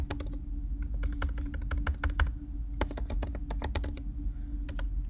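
Quick, irregular clacking of computer keyboard keys as a file name is typed, close and clear, with short bursts separated by brief pauses over a low steady background hum.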